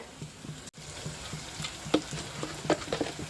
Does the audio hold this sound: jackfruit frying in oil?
yes